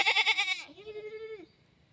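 A goat giving birth bleats in loud, close, wavering cries, a stuttering burst followed by a longer trailing call that fades into quiet.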